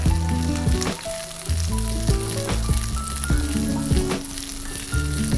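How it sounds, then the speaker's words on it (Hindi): Quartered onions and colourful vegetables sizzling steadily in a hot kadai pan while being tossed, a continuous loud frying crackle with occasional clinks from stirring. "with that I have some quartered onions. And I'm just gonna toss it around"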